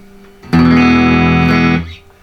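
A Fender Tone Master Twin Reverb guitar amp rings out one loud sustained chord that holds steady for over a second, then cuts off, with a faint hum before and after.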